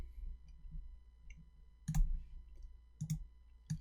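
Computer mouse clicks heard as a few sharp, close double clicks spaced about a second apart over a low steady hum, with no talking.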